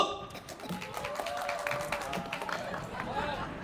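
A crowd at a dance festival claps in scattered, uneven applause, fairly faint and distant, mixed with chatter and an announcer's voice.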